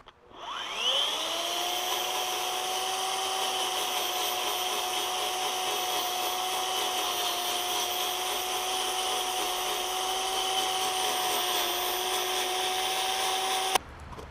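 An electric chainsaw converted into a power gouge for wood carving spins up with a rising whine, then holds a loud, steady, close motor drone for the whole stretch before cutting off at the end, with no talking.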